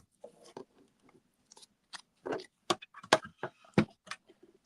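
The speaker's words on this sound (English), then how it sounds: "let's get our little Stampin' trimmer here, or die cut machine" A Stampin' trimmer slices through paper with short, crisp snipping and scraping strokes, several quick separate cuts close up in a quiet room with no talking.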